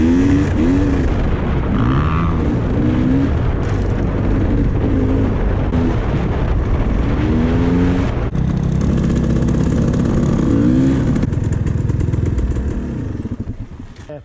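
A dirt bike engine revs and bogs repeatedly on Michigan off-road trails, loud and close with rising and falling throttle sweeps over steady engine drone, no talking.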